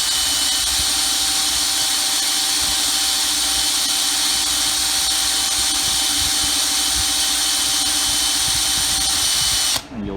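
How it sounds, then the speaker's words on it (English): A power drill with a 5/64 bit bores into a metal front sight, a loud steady high-pitched whine running continuously for about ten seconds before stopping abruptly. "You're going to stick your power drill in there and you're going to drill into the front sight."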